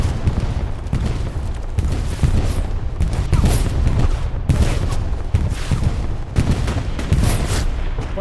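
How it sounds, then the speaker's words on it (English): A Katyusha rocket barrage in the Hell Let Loose game on the Kursk map, with a loud continuous roar of rapid blasts and booms rolling in waves, close and dense, with no voices. "That Katusha strike, pretty awesome to watch come in"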